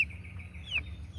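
A White Kelso pullet lets out a few thin, high drawn-out peeping calls, close and alone over a low background hum.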